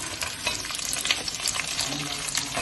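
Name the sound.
chopped onion frying with garlic in oil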